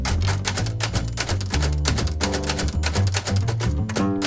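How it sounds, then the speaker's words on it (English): Rapid, steady typing on a manual typewriter in a repair shop, with dense clacking keystrokes and occasional carriage or bell sounds, loud and close with no talking. "They're also typewriters,"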